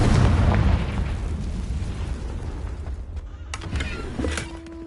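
Confringo blasting spell in Hogwarts Legacy, a loud explosive boom that rumbles and decays over several seconds, followed by scattered debris crackles and a faint magical tone.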